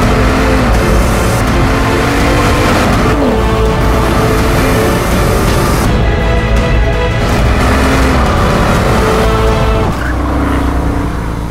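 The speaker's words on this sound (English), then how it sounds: "the 16-cylinder engine can turn on the most exclusive and luxurious high-end sound system ever fitted into a supersports car" A Bugatti Chiron supersports car with a 16-cylinder engine revs hard and loud, its pitch climbing and falling through repeated accelerations with some tire noise, heard up close with no talking.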